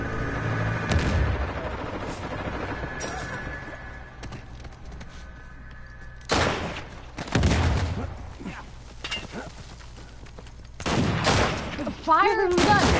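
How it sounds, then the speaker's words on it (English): Gunfire in the Uncharted 4 multiplayer video game: scattered loud shots and short bursts spread over several seconds, separated by quieter game ambience, with occasional voice sounds in between. "Fire the gun!"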